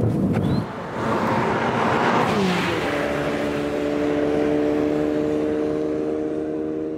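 A Ford Focus RS engine revs and accelerates hard on track, a loud close roar with wind noise that climbs in pitch through the gear, then holds a steady, strained drone.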